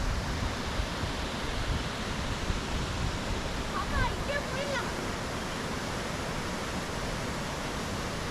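Water pours out below a dam in a steady, broadband rush that fills the scene evenly from start to finish, with a brief faint chirping sound rising over it midway.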